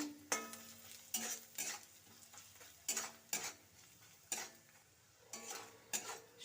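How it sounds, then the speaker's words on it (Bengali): A spoon stirs and mixes spiced ingredients in a pan, with repeated bright scraping strokes in an irregular rhythm over a faint background. Nearby and soft, with no talking. "সব উপকরণ ভালো করে মিশিয়ে নেব"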